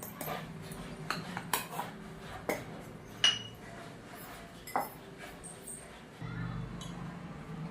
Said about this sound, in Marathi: हे सगळं साहित्य आपण चमच्याच्या साहाय्याने एकत्र करून घेऊया